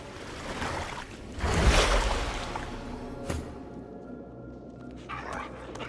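A dog barks in the Divinity Original Sin II video game: a loud burst of yelping and barking near the middle, with a sharp bark later, over a busy game soundscape.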